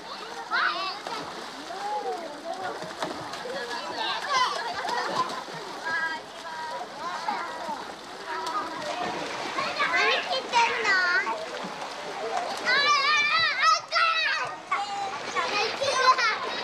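Children splash and play in an outdoor pool on a hot day in Fukushima, with repeated watery splashes and lively kids' voices and shouts running throughout at close range.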